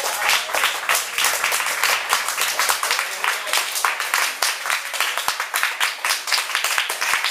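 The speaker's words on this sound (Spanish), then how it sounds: "Denle un aplauso a Cristo." A church congregation claps during a Spanish-language sermon, with many hands beating in a quick, fairly regular rhythm, close and lively throughout.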